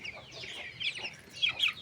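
Backyard chickens, just fed, cluck softly and close by in a short series of quick chattering calls over a quiet background.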